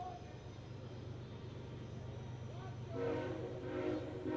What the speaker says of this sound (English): Train rolling by out in left field